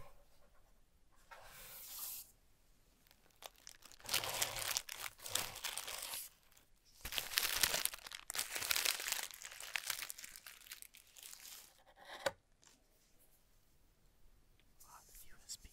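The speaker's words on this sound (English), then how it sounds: "I love that sound. Like whenever you just like cut the tape." Packing tape sliced open while unboxing a Logitech mechanical mini keyboard, giving long crinkling, tearing and scraping bursts up close, with soft whispering around them.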